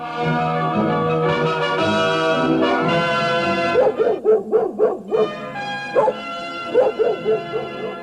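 A dog barks in a radio comedy show, a quick run of sharp, close barks that follows a sustained musical passage, then a few more barks after a short pause.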